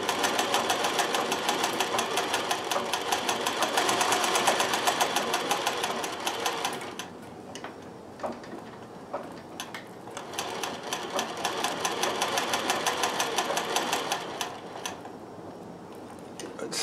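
A sewing machine embroiders with metallic thread, its needle hammering in a rapid, even stitching rhythm for long stretches, pausing briefly around the middle and once more near the end before resuming, close and alone.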